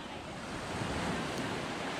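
Ocean surf washes in a steady broadband roar at a Florida beach, with wind buffeting the microphone and no speech.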